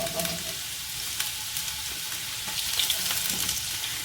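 Finely chopped ginger and garlic fry in oil for a prawn roast, giving a continuous close sizzle with scattered crisp pops and light spatter, no voices.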